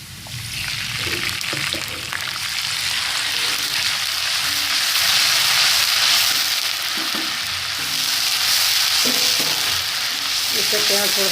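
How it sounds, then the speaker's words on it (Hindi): Loud, continuous sizzling from a frying pan with stirring clatter, as water hits hot oil and onions while cooking minced meat keema, hissing steadily. "अब हम थोड़ा सा पानी डाल देंगे।"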